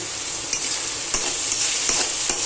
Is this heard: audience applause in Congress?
no